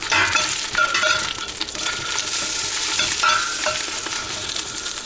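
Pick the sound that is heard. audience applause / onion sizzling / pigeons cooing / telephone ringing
onion sizzling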